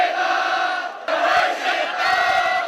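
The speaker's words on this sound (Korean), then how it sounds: "교정 가득 함성이 울려 퍼진다" Loud massed cheering and shouting of university students on the Seoul National University campus at a freshman orientation send-off rally, surging in bursts, with a sharp jump in intensity partway through.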